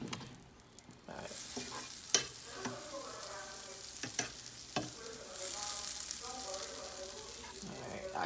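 Butter sizzles in a frying pan on a stove set around medium high, a close crackling hiss broken by sharp clinks and scrapes of a utensil against the pan, with a voice talking at points.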